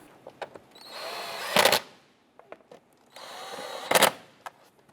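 A power tool snugs down two 10mm bolts on the top cover of a 2007-2012 Nissan Versa during a coolant temperature sensor replacement: two loud whirring bursts, each a second or so long, with quiet clicks and small knocks of handling between them.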